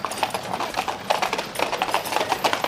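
Horses' hooves clip-clop at a brisk, steady walking rhythm on hard ground, clear and moderately close, with no voices over the hoofbeats.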